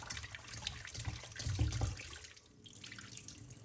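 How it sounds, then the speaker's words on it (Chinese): Pork ribs are rinsed under running tap water in a sink, a soft continuous splashing flow with brief swells, fairly faint and close. "然后用流动的清水清洗2遍，彻底洗净。"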